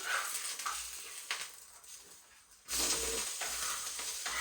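Garlic butter naan cooks in a pan on the stovetop, giving a steady hiss of sizzling butter that swells louder partway through and carries on close and continuous, with no voices.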